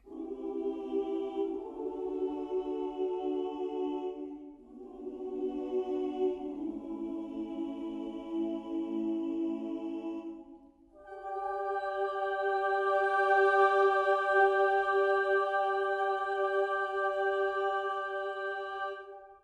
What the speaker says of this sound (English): but this is a mixed choir, so both male and female